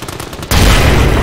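A grenade goes off in Amnesia: The Bunker: after half a second of quiet, a sudden loud blast erupts, followed by a sustained roaring rumble.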